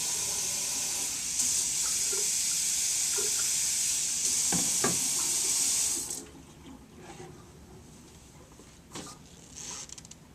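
Warm water running steadily from a tap into a basin for a bed bath, hissing for about six seconds before it shuts off, followed by faint clinks and handling noises.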